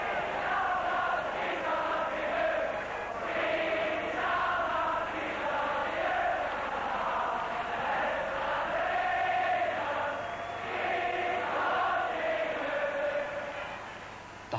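Celtic football supporters in a 126,000-strong stadium crowd singing in unison, a broad rolling chant with rising and falling phrases, distant and reverberant, continuous throughout.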